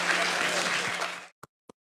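A round of applause for people who came up on stage at a streamer debate rings out dense and steady, then cuts off with a couple of last isolated claps.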